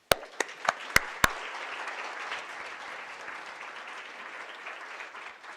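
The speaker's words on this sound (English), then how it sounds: "let us welcome him with a great applause" A few sharp, close claps open a sustained round of moderate crowd applause at an Ethnic, Gender and Transborder Studies summit, welcoming a speaker.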